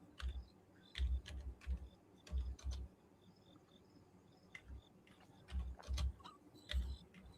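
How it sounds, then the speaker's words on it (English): Someone types on a computer keyboard indoors, producing irregular bursts of soft clicking keystrokes with short pauses between runs, fairly quiet and close, with no talking. "I was typing."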